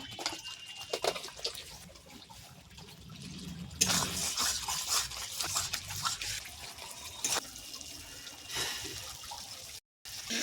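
A small splash of water is poured into a pan of rohu fish kalia cooking in oil, giving a steady close trickle and sizzle with a few sharper bursts and a brief break near the end; no one speaks.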